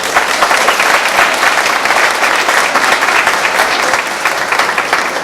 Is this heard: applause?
yes